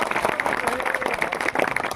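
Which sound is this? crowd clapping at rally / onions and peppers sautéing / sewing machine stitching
crowd clapping at rally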